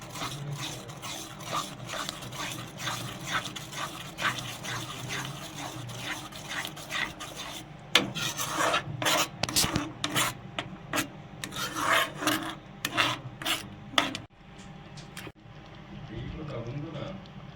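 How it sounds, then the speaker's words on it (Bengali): Thick rice kheer with caramel stirred in a pot, producing repeated rhythmic scraping and rubbing strokes that grow louder and more distinct midway, with a voice speaking over parts of it. "ভালোভাবে এটাকে আর একবার নাড়িয়ে নেব"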